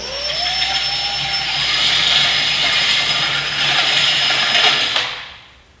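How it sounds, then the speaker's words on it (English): A unibit step drill bit enlarges small stock holes in Hotbodies race bodywork for a Honda CBR1000RR, giving a loud, continuous high whine and grind for about five seconds before it stops abruptly. "The stock holes were a little small. I'm going to defer to our unibit again."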